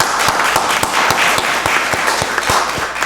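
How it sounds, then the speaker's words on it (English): Steady applause from an audience at a county board of commissioners meeting, dense continuous clapping with a few sharper individual claps standing out, close and fairly loud throughout. "Give them a round of applause."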